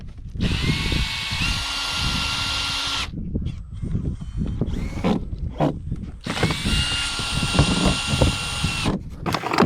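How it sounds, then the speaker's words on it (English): Power drill driving drywall screws into a plywood tee pad outdoors: two long, loud, high whining bursts separated by a stretch of clattering and handling noise, heard close with no talk. "So now we're just going to drive a whole bunch of drywall screws into it."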